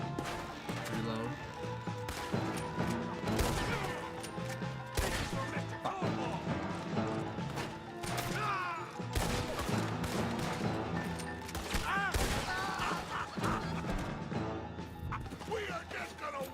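Gunfire and crashing impacts during a shootout with Pinkertons in the video game Red Dead Redemption 2, dense bursts of shots and thuds mixed with game music and a talking voice throughout.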